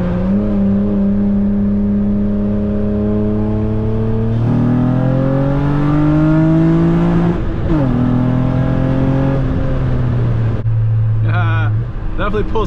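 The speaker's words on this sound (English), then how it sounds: "The exhaust is much louder" Engine and exhaust of a 2006 Acura TL with six-speed manual, custom 4-inch intake, J37 manifold and throttle body, pulling hard through rising revs with a gear change midway, loud and close under steady cabin drone.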